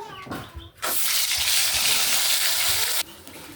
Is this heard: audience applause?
no